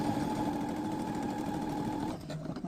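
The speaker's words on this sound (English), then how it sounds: "Now we're going to sew around the edge." Sewing machine top stitching around a trouser zip fly edge, a steady close whirring hum running evenly for about two seconds before slowing and stopping.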